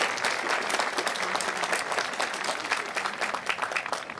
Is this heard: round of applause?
yes